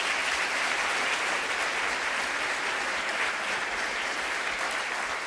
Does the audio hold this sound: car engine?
no